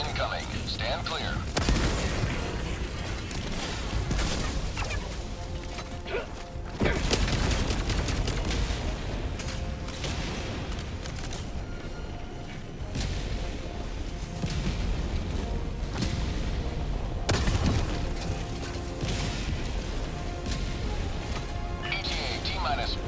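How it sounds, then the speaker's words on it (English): An orbital barrage in the Helldivers 2 video game produces a dense, continuous roar of heavy explosions, with several stronger booms hitting at intervals through the rumble. "Orbital barrage incoming."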